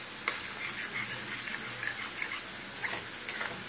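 Nimki fry in hot oil with a steady soft sizzle and occasional light stirring taps, close but quiet, with no voices.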